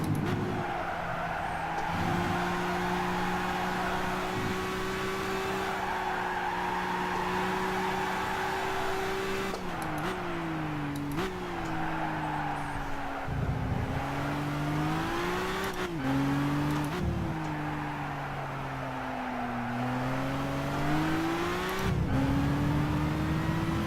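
A race car engine in Gran Turismo roars steadily under acceleration, its pitch climbing and dropping through a series of gear shifts, loud and continuous with no pauses.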